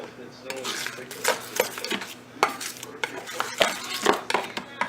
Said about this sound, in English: so I just keep mixing it